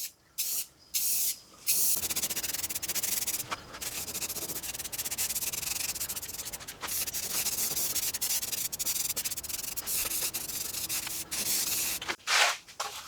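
Spray paint hissing onto wrestling trophies in repeated passes from different angles, a steady close hiss broken by brief pauses near the start and end.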